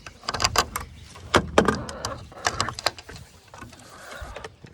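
Wooden chicken coop door being opened in the morning, a series of close knocks, scrapes and creaking rattles as the latch and door are worked.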